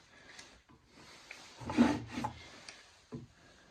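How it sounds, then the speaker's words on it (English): A clamp is fitted and tightened onto a wooden workpiece during glue-up of a scarf joint, giving soft close scraping and wood-rubbing sounds with a louder burst of contact in the middle, then a few faint knocks. "we'll put a clamp right here"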